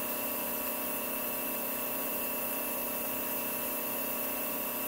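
A Vevor bench grinder runs steadily at full speed with a constant hum and whine, fairly quiet and even throughout, with no talking.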